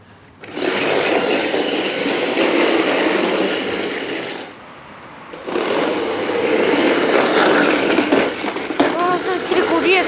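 A jeep grinds along a rough off-road track, its engine and rattling body loud and continuous, dropping out briefly before resuming, with voices over it.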